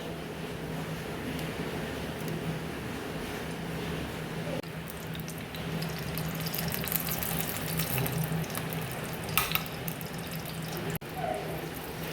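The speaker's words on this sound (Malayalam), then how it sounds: "അപ്പം നെയ്യും അണ്ടിപ്പരിപ്പും മുന്തിരിയും വഴറ്റിയെടുക്കുക" Cashews and raisins sautéing in ghee for a biryani made with ration rice: a steady, close sizzling hiss with faint crackles runs the whole way over a low constant hum.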